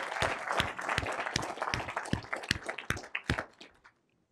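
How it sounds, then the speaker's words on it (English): Audience applause at a college dean's annual address, scattered individual claps that thin out and fade over four seconds, fairly faint in a hall. "So please join me in thanking yourself and giving yourself a round of applause."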